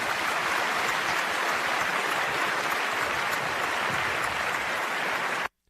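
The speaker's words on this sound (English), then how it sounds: "Give it up for Jay in Athens with a little golf applause" Soft, steady golf-style applause on a radio sports show, a dense even patter that runs for several seconds and then cuts off abruptly.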